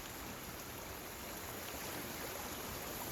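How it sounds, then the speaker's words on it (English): A creek flows beside a house deck, heard as a steady broadband rush of running water that holds at an even level throughout, with no voices present. "I don't know if you can hear the creek flowing in the video or not"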